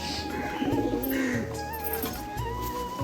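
Madras pigeons at a home loft, a male cooing in repeated low throaty coos over soft background chirps, moderately loud and close, with no talking.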